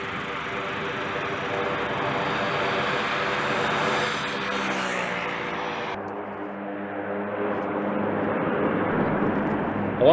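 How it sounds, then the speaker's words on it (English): Propeller aircraft of the 53rd Weather Reconnaissance Squadron landing with props in reverse: a loud, sustained roar of engines and propellers that changes character partway through as the thrust shifts, steady and close throughout. "you want to get the props into reverse quickly, but you want to get them out before you start sucking up dirt like that."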